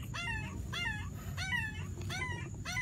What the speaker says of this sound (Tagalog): Ang ganda, ang ganda, ang ganda ng tuta